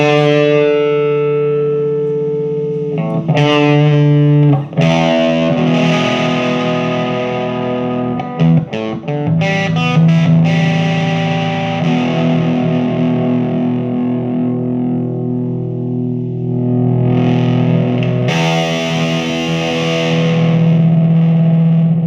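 Heavily distorted electric guitar through an Orange Terror Stamp tube amp plays loud, sustained chords and riffs with brief choppy stops, continuous and up close, no voices.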